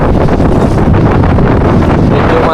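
Strong wind buffeting a small fishing boat out at sea, a loud, steady roar filling the whole clip.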